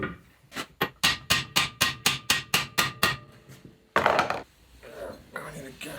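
Rapid run of about a dozen sharp metallic hammer blows on a socket, driving a bearing into a Land Rover Series gearbox, steady and close, followed by a brief clatter and quieter handling noises.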